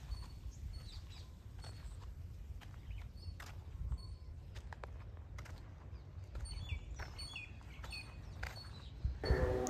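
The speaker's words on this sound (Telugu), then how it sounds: "పక్షుల సౌండ్స్ తప్ప ఇంకేం వినిపించట్లేదు." Birds at Kolleru Lake chirp and call in scattered short notes over a low, quiet outdoor background with soft footsteps, the bird calls fairly faint and intermittent.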